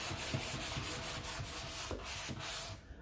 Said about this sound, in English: So I'm just going to come give this a light sand.